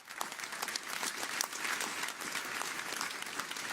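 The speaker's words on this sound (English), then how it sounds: "Please give them a round of applause." Audience applause fills an awards ceremony hall, a dense, steady wash of many hands clapping at close range for nearly four seconds without letup.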